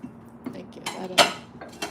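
Dishes and cutlery clink during washing up beside soapy water, in a few scattered bright knocks and rattles, close and moderately loud, with one sharper clatter in the middle.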